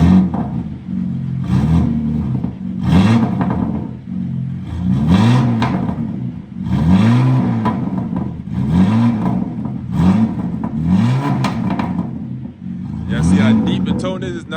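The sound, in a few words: sports car engine revving loudly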